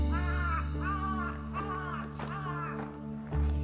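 Harsh crow caws repeat several times in a steady series, fairly close and loud over a low continuous background hum, near Lake Kawaguchi in autumn.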